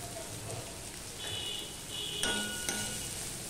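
Onions with a pinch of salt frying in oil for a Bengali bata fish curry, a soft steady sizzle with light stirring scrapes, faint and close.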